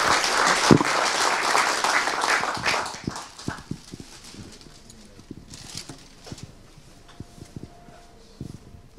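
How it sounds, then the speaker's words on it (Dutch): Applause at a Dutch municipal council meeting in Ommen starts as a loud dense burst of clapping, then thins after a few seconds into scattered individual claps that fade out. "En een applaus."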